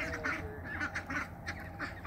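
Ducks kept in a fenced backyard quack repeatedly and close by, a steady run of short, nasal calls with no talking.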